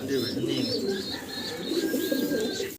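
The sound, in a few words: pigeons cooing on a farm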